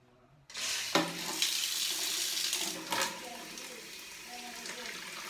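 Water gushes steadily from a bathroom faucet at close range, a broad hiss with a couple of brief knocks and a faint voice in the background.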